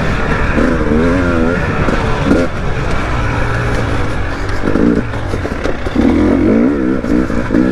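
A 2022 KTM 300 XC two-stroke dirt bike engine revs and grunts in second gear through a track turn, a loud, continuous rasp with rising and falling pitch sweeps, with faint voice under it.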